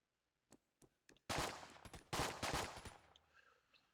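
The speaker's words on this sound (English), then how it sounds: "apparently a Colt now shoots multiple bullets. It has burst fire." Colt pistol in the top-down shooter Enter the Gungeon firing in burst mode: a few sharp isolated shots, then two dense stretches of rapid gunfire with game effects, loud and up close with no talk.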